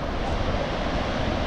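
Sea waves wash steadily at Diveagar beach, a dense, unbroken roar of surf mixed with gusty wind rumbling on the microphone.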